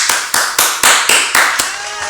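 Hand clapping by one person imitating plane passengers applauding a landing, about eight sharp, loud, close claps in a steady rhythm.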